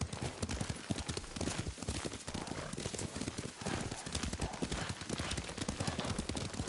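Continuous clip-clop of horse hooves at a steady gallop in the video game Ghost of Tsushima on PS5, dense and rhythmic, under a busy wash of background noise.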